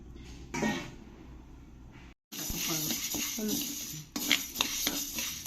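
Green gram (mung beans) dry roasting in a pan, with scraping stirs and light rattling of beans against metal in irregular bursts, fairly quiet and close, with a brief pause partway.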